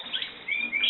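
Satin canaries give short, bright chirps in a brief burst, faint and close, with no other sounds.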